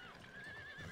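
Horses neigh and whinny on a medieval battlefield in the strategy game Third Age, with a sustained high whinny over clip-clopping hooves and battle noise, loud and close throughout.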